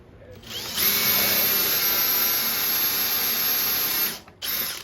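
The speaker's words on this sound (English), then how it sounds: "Drill little counter sink" A power drill whirs loudly and steadily for about three seconds, drilling a countersunk pilot hole in a wooden dresser, then stops, followed by a short second burst of drilling.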